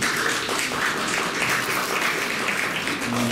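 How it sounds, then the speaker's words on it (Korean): Applause at an award ceremony for a workers' literary contest, with an audience giving steady, even clapping throughout and a faint voice beginning near the end. "큰 박수를 부탁드립니다."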